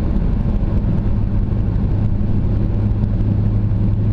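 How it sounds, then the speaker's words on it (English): A car engine hums while cruising, with a throbbing, uneven note like a Subaru-style boxer engine with unequal headers, loud and steady from inside the cabin, with no speech. "just cruising, it reminds me of like a Subaru engine, like a boxer engine, the unequal headers or something like that"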